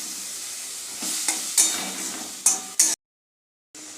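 A tamarind-wood spatula stirs tomato chutney in a sizzling pan, soft scrapes and a few sharper knocks over a close frying hiss, which cuts out abruptly for a moment before returning.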